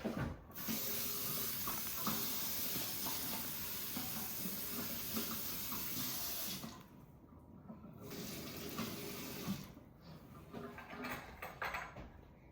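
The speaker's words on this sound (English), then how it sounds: "we're gonna wash our hands. I wanna wash it here." Tap water runs steadily into a sink while hands are washed before baking banana bread, a continuous broadband rush that briefly drops out near the middle and again toward the end, fairly close and without talk.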